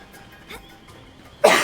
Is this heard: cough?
yes